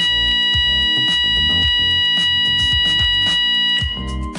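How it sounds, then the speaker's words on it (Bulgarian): Workplace evacuation alarm sounding loud and continuous, a repeating electronic tone pattern pulsing steadily throughout with strong harmonics, with no talking. "Съществува и този алармен сигнал. Ще чуете този сигнал в продължение на 10 секунди."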